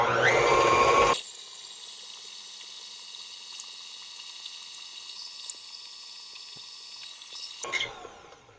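An electric mixer beats speculoos cheesecake filling made with cookie butter, a steady whirring hum that runs for several seconds after a louder start and then cuts off.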